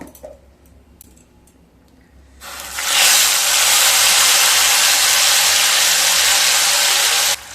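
Tomato paste dropped into hot oil for a paneer-style chhana kaliya, after a few quiet clicks a loud, sudden sustained hiss of sizzling that holds steady for several seconds, then cuts off.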